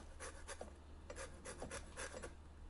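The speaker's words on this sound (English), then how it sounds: "Use a lemon zester or use a fine grater so you get zest and not the white pithy part." A lemon rasped over a fine zester or grater for cheesecake bars, giving soft, quick scraping strokes in a steady rhythm, close but quiet, with no voices.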